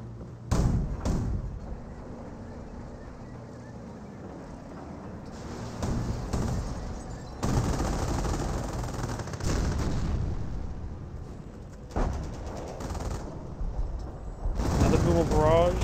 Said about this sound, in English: It's from Sector Artillery, who will barrage and hit this AT gun.